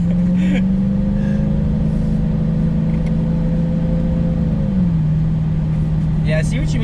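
A Dodge Charger Hellcat on a test drive accelerates with a loud, steady engine drone whose pitch rises gradually before dropping as a gear shifts, heard from inside the car with voices around it.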